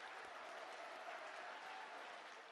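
Crowd at a Korean political party event applauding party leader Kim Gi-hyeon, a dense, sustained wash of many hands clapping at steady loudness throughout, with no speech over it.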